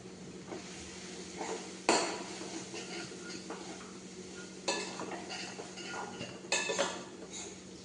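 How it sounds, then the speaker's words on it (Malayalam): A spoon stirs a curry mixture with fennel powder and garam masala in a pan, with scraping strokes and occasional sharp clinks against the metal, close and moderately loud. "നന്നായി ഇളക്കി കൊടുക്കാം."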